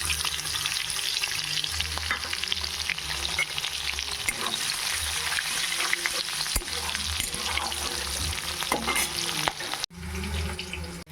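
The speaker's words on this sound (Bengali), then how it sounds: "ক্যাপসিকামটা আমার ভাজা হয়ে গেছে" Capsicum fries in a pan with already-fried paneer, giving a loud, continuous sizzle with scraping stirs throughout, then a brief pause before the crackle resumes.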